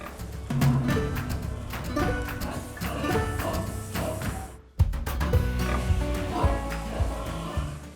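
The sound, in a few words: pigs of native Polish breeds grunting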